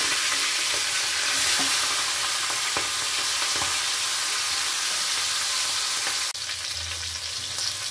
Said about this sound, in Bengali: তেল গরম হয়ে গেছে, এবার মাছের মাথাগুলো ভেজে নেব